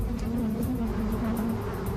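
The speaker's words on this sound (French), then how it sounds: "Willy et Dennis aspergent les abeilles de pesticides" A swarm of aggressive bees buzzing around a hive while pesticide is sprayed on them, a dense steady drone that stays loud and continuous throughout.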